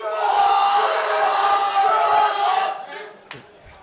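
Home crowd roaring and cheering loudly at a junior powerlifting world championship, a dense sustained wall of voices that drops away near the end, followed by a brief sharp shout.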